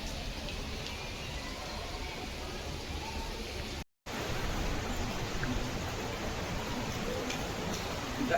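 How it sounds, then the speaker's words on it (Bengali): Heavy rain falls outdoors as a soft, even hiss that runs steadily at a fairly low level, broken by one brief moment of silence midway. "কী জোরে বৃষ্টি হচ্ছে"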